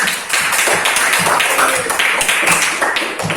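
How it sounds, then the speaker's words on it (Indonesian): Schoolchildren in an Indonesian classroom clap together in steady, dense applause for a classmate's answer, close and lively with a few voices mixed in. "Kita beri tepuk tangan"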